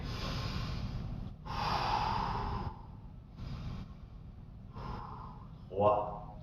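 Heavy, ragged breathing with snorts and gasps follows a set of jumping jacks in a beginners' martial arts class, several long exhalations up close with brief pauses between them.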